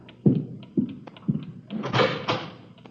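A door is opened as a radio drama sound effect: a few knocking thuds followed by a rattling creak of the door, close and moderately loud, with no voices over it.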